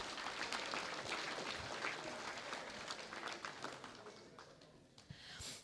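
A high school gym audience at a North Dakota volleyball night applauds a senior being honored, a steady wash of faint, distant clapping that slowly thins toward the end.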